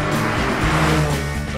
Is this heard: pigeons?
no